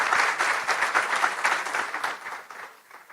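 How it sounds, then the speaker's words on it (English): Audience applause at the Republic Summit 2026, a hall of many hands clapping in a lively burst that gradually thins and fades toward the end, with no talking over it. "Round of applause for Republic Bangla"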